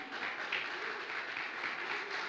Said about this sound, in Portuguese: Foi fraca essas palmas